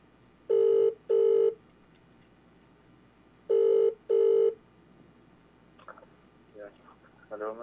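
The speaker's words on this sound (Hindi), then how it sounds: "फोन कर रहे हैं नक्शबंदी नसीरुल्ला नक्शबंदी नूर टीवी का।" Ringback tone of an outgoing phone call to a Noor TV presenter: two pairs of steady electronic rings, each pair of short bursts separated by a pause, loud and clear, followed by faint rustling and the start of a voice.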